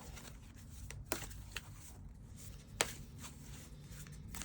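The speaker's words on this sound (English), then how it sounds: "We're gonna shuffle more." A deck of tarot cards shuffled by hand, faint soft riffling with a few sharper card snaps, close and quiet with no talking.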